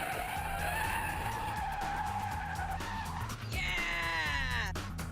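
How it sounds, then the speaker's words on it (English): An ordinary car skids through a 180-degree handbrake spin, its tyres squealing loudly and continuously for several seconds over the engine drone, with a rising, wavering screech near the end. "The guys will get to grips with the 180 spin technique on a normal car first."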